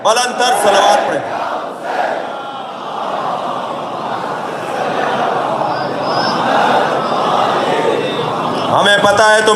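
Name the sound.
crowd loudly reciting salawat at a religious gathering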